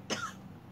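A single short cough, close and clear, over a faint steady background hiss.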